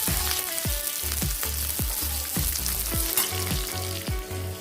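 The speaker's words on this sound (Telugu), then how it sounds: "కరివేపాకు వేస్తానండి" Curry leaves sizzling in hot oil with mustard seeds, cumin, coriander seeds, dried red chillies and garlic, a tempering for mango rasam; a steady close crackle and hiss with repeated sharp pops throughout.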